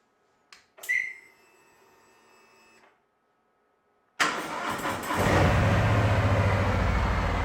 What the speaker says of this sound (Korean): 순정 머플러의 배기 사운드를 한번 들어보고요